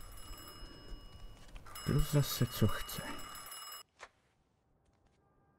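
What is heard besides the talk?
telephone ringing in the video game Mafia II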